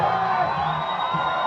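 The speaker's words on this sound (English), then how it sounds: "The crowd getting behind him." Crowd cheering and whooping for a climber on the head wall at the 2015 Psicobloc Masters deep-water solo competition, a loud, sustained roar of many voices with shouts rising through it.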